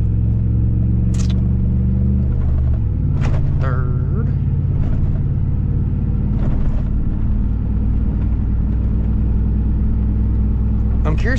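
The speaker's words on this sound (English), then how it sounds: "so we're going to drive for another minute here" A car on the road after a transmission install, with a steady loud engine and road rumble throughout that shifts down in pitch early on, and brief clunks and knocks over it.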